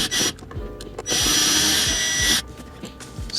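A right angle drill removes Phillips screws from Lexus GS trim, with close, loud whirring bursts of varying length separated by short pauses and light clicking handling noises.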